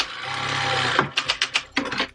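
A sewing machine stitches a quilted boxy carry-all bag, running in a steady mechanical whir for about a second before breaking into a handful of sharp, rapid clicks. No voices are heard.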